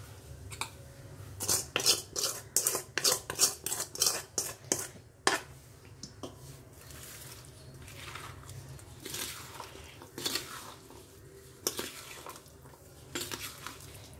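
Dosakaya pachhadi, a cucumber chutney with lemon juice, stirred and mixed in a bowl, with a run of quick spoon-on-bowl clinks and scraping taps, loud in bursts, then softer intermittent stirring and wet squishing, no talk.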